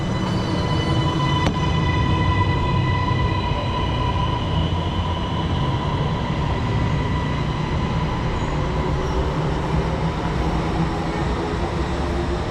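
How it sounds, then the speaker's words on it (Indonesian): MRT metro train pulling away from Kajang station in Malaysia, a steady loud rumble of wheels and motors with a sustained tonal whine and faint squeal, continuous and close throughout, with no voices. "Oke, jadi MRT-nya langsung pergi."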